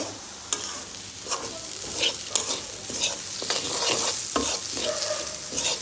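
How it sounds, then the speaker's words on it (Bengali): Lentils being stirred and fried in a pan, a loud continuous sizzle broken by repeated sharp scraping strokes of a spatula at an irregular rhythm, close by with no voices. "ডালটা দিয়ে দিয়েছি এবার একটু ভালো করে নেড়ে চেড়ে নিব"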